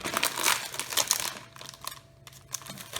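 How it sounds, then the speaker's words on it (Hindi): A polythene sheet is laid on a papad-making machine for homemade aloo papad, crinkling and rustling loudly up close in bursts, then easing to softer intermittent crackles. "इस तरह से मशीन पर पॉलीथीन को रख लें"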